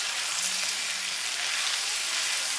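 Chopped vegetables with onion sautéing in a hot frying pan, a continuous close, even sizzle and crackle with no pauses.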